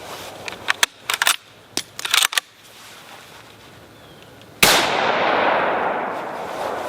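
A Finnish M91 Mosin Nagant rifle fires a single loud, sharp shot preceded by several metallic bolt and cartridge clacks, and a long, noisy echo trails off after the blast.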